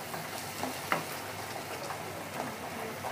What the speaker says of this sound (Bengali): মশলাটাকে খুব ভালোভাবে এখন আমি কষিয়ে নেব।